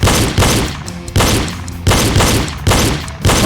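Pistol shots ring out in a reload shooting drill, about seven loud, close cracks in rough pairs and singles with brief pauses between.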